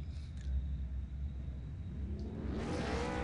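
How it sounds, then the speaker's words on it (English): V8 Supercars race cars rev on the starting grid at Zolder in a racing video game, a steady low engine rumble that swells into rising revs near the end, with no talking. "We hear the revs rise, waiting for the lights."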